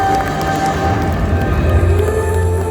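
Crowd applause and cheering fill the space at an underwater barongsai lion dance show at Gelanggang Samudera, a dense, steady wash of clapping that holds loud throughout.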